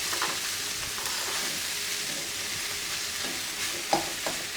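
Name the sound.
boiled noodles stir-fried with onion, chilli and egg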